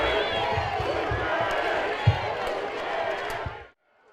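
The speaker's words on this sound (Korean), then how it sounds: "문 대통령 내외가 청와대 정문을 나오자 지지자들이 환호성을 지릅니다" A large crowd of supporters cheers and shouts continuously outdoors at the main gate of the Blue House in Seoul, a dense roar of voices that cuts off abruptly near the end.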